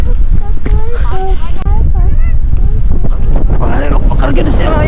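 Strong wind gusting outdoors in Nuuk, Greenland, buffeting the microphone with loud, constant low rumble while people talk and a voice rises and falls over it.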